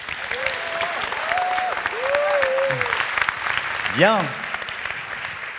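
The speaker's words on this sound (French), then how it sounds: "On peut applaudir" Audience applause fills a French talk-show stage, steady clapping that runs throughout at a lively level while a presenter's voice rises briefly above it.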